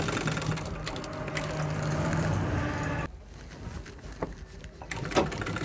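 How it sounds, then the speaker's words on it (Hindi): A sewing machine stitches along the folded top edge of a school skirt, giving a steady mechanical whir for a few seconds that stops abruptly, followed by faint handling clicks. "अब हम यहाँ किनारे सिलाई मार रहे हैं ऊपर वाले में।"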